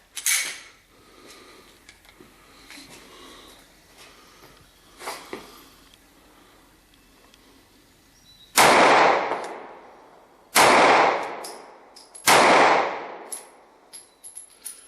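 A Glock 26 and a Kahr CW9 pistol are fired at a shooting range. Three loud, sharp gunshots ring out a couple of seconds apart after quieter handling clicks and clatter.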